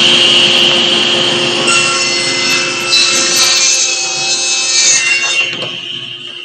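Saw blade cutting wood with bark inclusions in a woodworking shop, with dust collection running: a steady, loud grinding cut with sustained high whine and rasping texture that shifts midway, then tapers off near the end.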